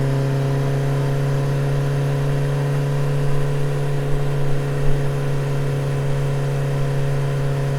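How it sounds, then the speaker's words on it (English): A motorbike engine on a ride gives a steady, loud, humming drone with a fixed pitch, rising slightly a few times midway, with no talking over it. "Benny's riding a motorbike."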